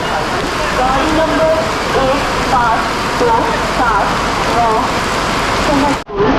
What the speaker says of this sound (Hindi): देख लीजिए कितनी जोर बारिश हो रही है।